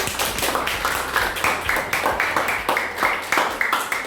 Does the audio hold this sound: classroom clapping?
yes